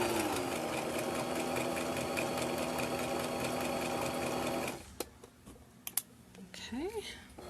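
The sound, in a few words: sewing machine stitching fabric for a bowl cover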